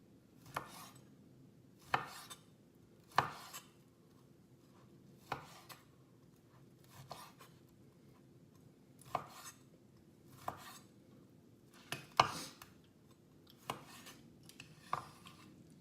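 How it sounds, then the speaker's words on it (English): A knife chops bison steak into short pieces on a cutting board, about a dozen crisp, separate cuts falling at an uneven pace, close and clear with a quiet background. "we're going to cut it so there's more pieces and there's shorter pieces"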